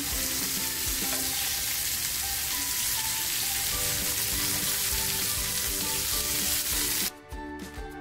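Prawn-stuffed pomfret pan-frying in oil over a gas stove on full flame gives a steady, dense sizzle throughout, with no voices. The sizzle drops away abruptly near the end.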